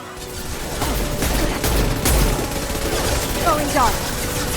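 Rapid gunfire in the video game Mass Effect 2, sustained bursts of automatic shots and crackling volleys in a busy combat mix with a short voiced exchange underneath.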